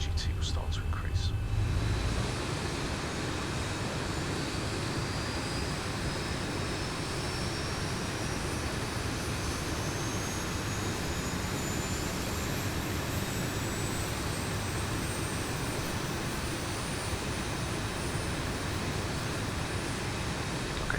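A Boeing 737 jet engine number 1 spooling up during start in the X-Plane 11 flight simulator, a loud steady roar with a rising whine climbing slowly in pitch after a brief burst of clicks at the start.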